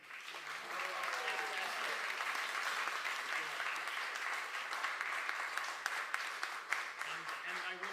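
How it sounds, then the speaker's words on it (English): Audience applause for a band at a live Hanukkah in the City 2020 event in Brisbane, a steady, sustained wash of clapping lasting throughout at moderate distance, with faint voices mixed beneath. "Another round of applause for the band"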